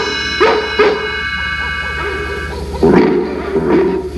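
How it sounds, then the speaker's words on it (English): Dogs of the Dalmatian story relay the twilight bark across London at night, a few sharp barks spaced apart, one pair early and another burst near the end, loud and close over a steady musical background. "We'll use the twilight bark to alert all the dogs in London and in the villages nearby."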